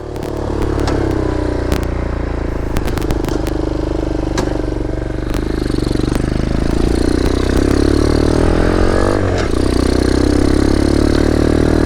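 A Boom Vader Grom clone motorcycle engine idles high and steady up close, a continuous mid-pitched throb with brief clicks and clatter scattered through it, rising slightly in the final seconds.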